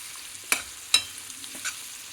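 An onion, cumin powder and spinach mixture is stirred in a pan for palak paneer, with a few sharp spoon scrapes over a quiet, steady sizzle of frying and no talking.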